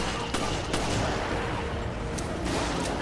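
Pistol shots ring out in the video game Resident Evil Revelations, a few sharp cracks spaced apart over a dense, noisy game backdrop of ambience and action, loud and close.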